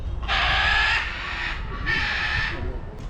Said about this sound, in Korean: 앵무새 한 마리가 소리 내기 시작하니까 다른 새들도 다 따라내